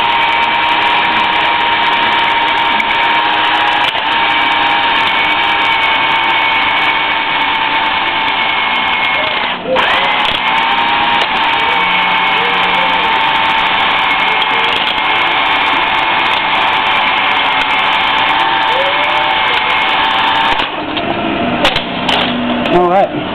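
Drill-driven hone working inside a Chevy 350 engine cylinder during a teardown, a loud continuous motor whine with a brief interruption partway, and someone speaking over it.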